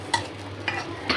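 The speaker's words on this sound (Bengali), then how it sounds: "তো এই যে সুন্দর করে মরিচ আর রসুন টালা হয়ে গেছে।" Green chilies and garlic fry in a pan while being stirred: three quick scraping strokes over a low, continuous sizzle.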